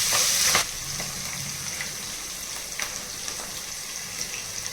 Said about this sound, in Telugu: మధ్యకి చీల్చుకున్న పచ్చిమిరపకాయలు ఒక 10 వేసేద్దాం.